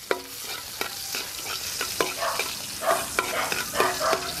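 Ginger and garlic fry in hot oil, a steady sizzle punctuated by sharp rhythmic spatula clacks against the pan, close and moderately loud.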